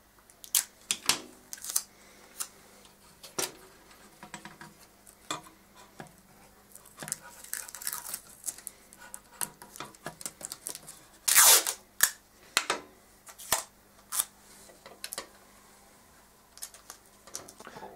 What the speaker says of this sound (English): So we need to connect using some tape, and I also use some cable ties to strengthen it.